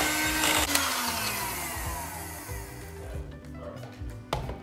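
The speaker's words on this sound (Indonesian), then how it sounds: "Kita mixer dulu sebentar supaya bisa di-squeeze ya." An electric mixer whirs through a vanilla rum filling for choux pastry, a steady loud motor drone with rising pitch sweeps, then cuts off abruptly near the end leaving a few soft knocks.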